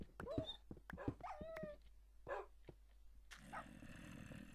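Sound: dogs whimpering in the video game Minecraft

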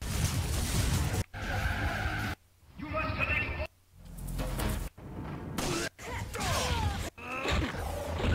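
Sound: car skidding and crashing in the video game Burnout 3

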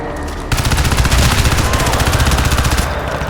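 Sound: gunfire in a video game

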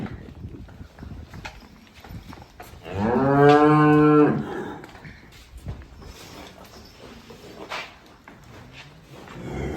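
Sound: cows and buffaloes mooing

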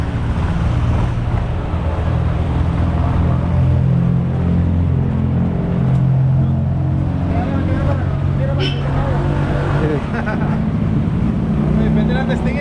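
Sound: Yamaha NMAX 2024 scooter engine running

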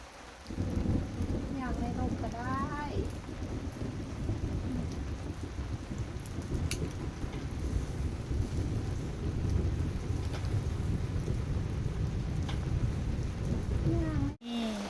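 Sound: rain and thunder

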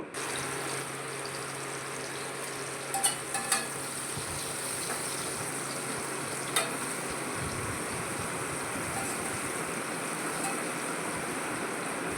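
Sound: potatoes with salt and turmeric frying in oil

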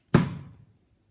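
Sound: water bottle flipped onto a door handle

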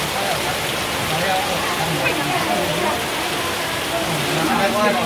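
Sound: heavy rain pouring

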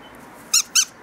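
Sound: squeaky dog toy squeaking

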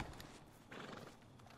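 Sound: horse in video game Red Dead Redemption 2

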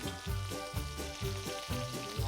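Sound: pork ribs sizzling in a pan

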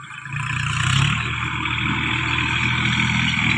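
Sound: tractor engine running

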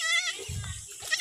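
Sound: goat kid bleating

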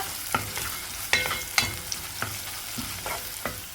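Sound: onion frying in oil after garlic browned

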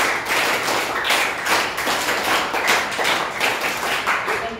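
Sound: class clapping for a student

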